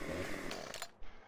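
Chainsaw cutting down trees during forestry work in Farming Simulator 2015, a loud buzzing engine whine that runs steadily for about a second, drops away, then gives a short final burst.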